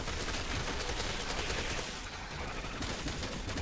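Sustained rapid gunfire from the video game Resident Evil 6, a loud continuous barrage of shots filling the whole stretch with no speech.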